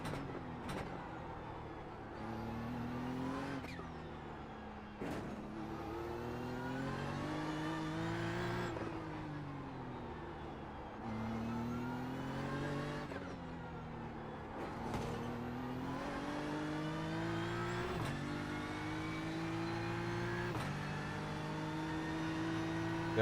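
A BMW engine in a racing video game drones with a thin, vacuum-cleaner-like whine, rising repeatedly through revs with sharp drops at each gear change, steady and moderately loud.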